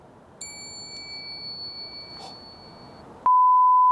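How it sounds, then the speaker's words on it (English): At a ghost hunt linked to the SS Atlantic disaster, a small bell rings once with a clear sustained tone that fades over a quiet background, then a loud steady electronic beep cuts in. "Hit the bell if you understand."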